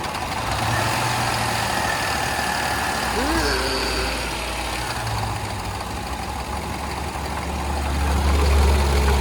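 A supercharged 5.0-litre L322 Range Rover V8 with a previously dead battery idles with a steady low rumble throughout, growing slightly louder and heavier near the end, while people talk over it.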